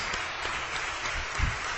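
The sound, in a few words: church congregation applauding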